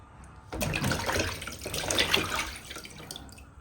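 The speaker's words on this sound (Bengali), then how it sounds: "এইগুলি জলে ধুয়ে নেবেন, একটু ডলা দিলে সব উঠে যায়।" Water splashes and runs as rohu fish pieces are rubbed and rinsed by hand, a steady close washing sound beginning abruptly and continuing with small splashes and drips.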